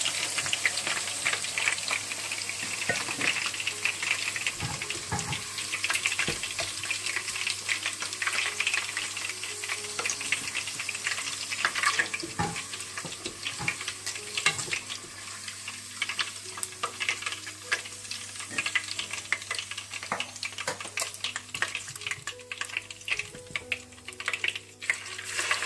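Chicken pieces deep fry in hot oil for chilli chicken, a constant close crackling sizzle with scattered sharp pops and ticks and an occasional light clink from stirring. No one speaks.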